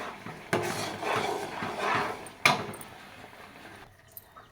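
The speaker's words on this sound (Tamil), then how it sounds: "கை விடாத கிளறிட்டே இருக்கணும்" ABC malt mixture is stirred nonstop in a cooking pan, giving a continuous scraping, clinking clatter of spoon against metal with louder knocks now and then, close and alone before tapering off near the end.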